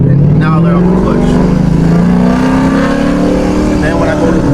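A Ford Mustang with a failing clutch slave cylinder rolls forward in first gear, its engine giving a loud, steady, close-up drone with a slowly rising pitch.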